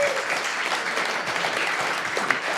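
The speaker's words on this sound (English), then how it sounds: "can we just give you a round of applause?" Continuous applause from an audience at a live show in Omaha, steady and fairly close, sustained without a break and with no voices over it.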